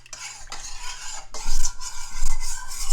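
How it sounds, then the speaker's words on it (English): A utensil scraping and stirring a mixture in a pot as it heads toward a boil, loud rhythmic strokes against the pot with a faint sizzle underneath. "Stir in, mix this all together."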